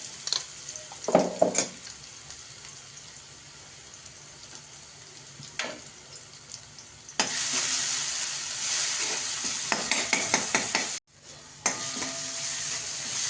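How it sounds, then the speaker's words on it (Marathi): Green chili paste sautéing in a pan for potato paratha filling, with soft stirring scrapes early on, then a steady loud sizzle that cuts out briefly and resumes, close up and with no talking. "पूर्ण परतवून घ्यायची हिरव्या मिरचीची पेस्ट."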